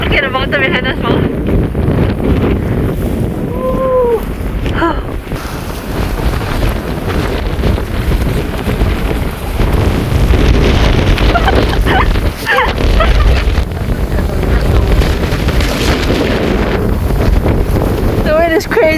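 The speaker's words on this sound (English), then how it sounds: "The wind is crazy." Strong, gusty wind buffets the microphone with a continuous loud roar along a mountain valley trail in rain, near a swaying footbridge, while voices talk intermittently over it.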